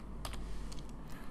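Someone types on a computer keyboard in a quiet room, producing a few scattered light key clicks in small clusters over a low steady background hum.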